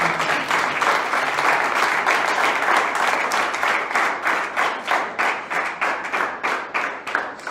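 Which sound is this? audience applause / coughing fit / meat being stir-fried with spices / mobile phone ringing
audience applause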